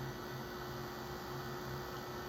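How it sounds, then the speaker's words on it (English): Heat tool blowing hot air to loosen a bangle-bracket attachment on a wreath, a steady broadband whoosh with a low hum, continuous and close throughout. "This heat tool will take this off."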